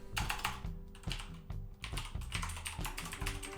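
Steady typing of code on a computer keyboard, with a quick run of close, crisp key clicks that pause briefly once and then carry on at an even rhythm, with no talk.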